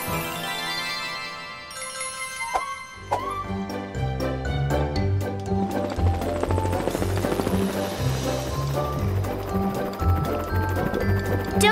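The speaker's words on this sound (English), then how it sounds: "Morphle, morph into a helicopter." A cartoon helicopter whirs with a steady chopping rotor pulse under bright, busy music, loud and continuous throughout.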